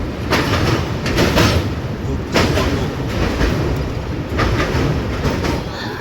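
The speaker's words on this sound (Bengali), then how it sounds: "আস্তে আস্তে ট্রেন এসে পৌঁছালো কটকের ঠিক আগে মহানদী ব্রিজে।" Amaravathi Express train rolling over the Mahanadi bridge near Cuttack, a steady loud rumble of wheels on track with rhythmic clickety-clack bursts from the bridge joints, continuous throughout with no voices.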